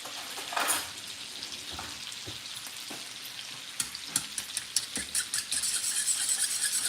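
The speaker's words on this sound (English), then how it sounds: "We're going to mix this up." Fork whisking eggs and cream for a French toast custard, a fast, light tapping and swishing against a bowl that grows busier toward the end, close with no talk.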